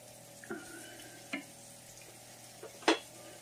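Rice and peppers sautéing in butter in a pot, a soft steady sizzle broken by a few scraping stirs and clinks of the spoon against the pot.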